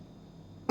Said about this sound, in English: Stupid fucking cough, won't leave me alone.